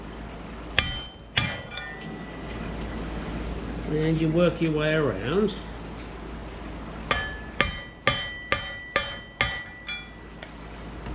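Hammer blows driving a part out of a Jaguar independent rear suspension with a brass drift: several sharp metallic strikes, then a pause while a voice speaks, followed by a steady run of loud ringing hits in close succession.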